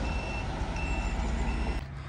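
A 1. FC Köln team bus pulling through a crowded stadium area, its repeated reversing beeps sounding loud and close above a steady low engine rumble and crowd noise, cutting off near the end.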